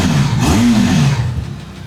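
Engine of a 2025 Benelli TRK 502X motorcycle rises from idle in a short rev, climbing then falling back, loud and close, with the throttle blip fading toward the end.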